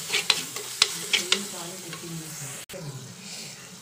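Masala frying in oil in a pan for a red chilli fish curry, a steady soft sizzle with a few scraping stirs near the start, close by.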